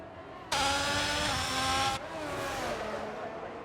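A Formula 1 car engine screaming around the Monaco circuit in an F1 video game, a loud high-revving whine that cuts in abruptly, then drops to a lower passing drone.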